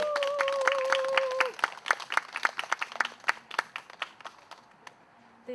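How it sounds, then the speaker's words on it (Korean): A crowd at an outdoor garden concert and lecture applauds to welcome a speaker, dense clapping that thins out and fades over several seconds. A held tone sounds briefly at the start. "김은주 학예사님은 여러분 큰 박수로 맞이해 주세요."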